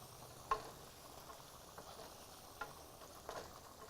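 Vegetables sauté in a pan over medium heat, giving a faint, soft sizzle broken by a few scattered small pops and crackles.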